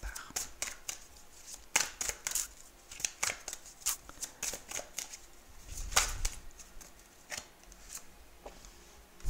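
Tarot cards being shuffled for a reading, a run of crisp riffling and snapping bursts close by, irregular and fairly quiet, with a voice speaking softly in the background.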